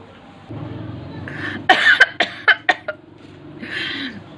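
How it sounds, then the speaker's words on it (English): A quick run of sharp coughs, about five harsh bursts in a row, close and fairly loud, with some breathy throat sounds before and after. "I have a cough"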